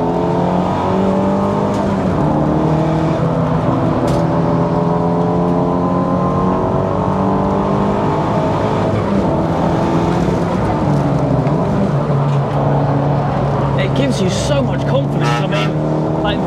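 A 450bhp track-spec Audi A3 8P on a race circuit, its engine loud and close as it climbs through the revs in long rising sweeps, shifting and pulling again, with a voice talking over it.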